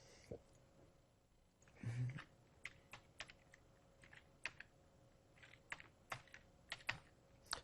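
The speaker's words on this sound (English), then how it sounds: "So just go to the command window and type this in." Keystrokes on a computer keyboard while entering commands into a MATLAB command window, sparse, quiet individual clicks spread irregularly, with a faint hum and a soft thump in the background.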